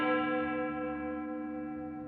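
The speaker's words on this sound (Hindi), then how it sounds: "उस रात 12 बजे फिर वही घंटी बजी।" A single copper bell struck once in an animated Hindi moral story, its bright tone ringing out with rich sustained overtones that slowly decay.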